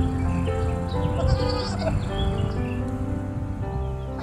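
A goat bleats with a drawn-out wavering cry over steady background noise, with other animal calls nearby.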